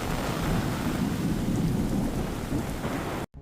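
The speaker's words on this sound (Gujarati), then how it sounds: "લોધિકામાં ગાજવીજ સાથે વરસાદ વરસ્યો." Thunderstorm with rain in Lodhika, Rajkot: loud, continuous downpour roaring close with a deep rumbling undertone throughout, cutting off abruptly near the end.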